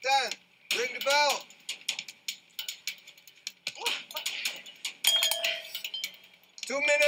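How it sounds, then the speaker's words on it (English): A bell rings out with a clear tone near the end of a reality fight-training challenge, heard amid shouting and an excited voice talking over it. "9, 10, ring the bell."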